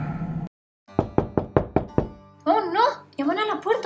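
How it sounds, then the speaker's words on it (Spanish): Knocking on a door in a Spanish-language Paw Patrol children's story, five sharp evenly spaced knocks up close, with voices speaking just before and after. "Llaman a la puerta otra vez."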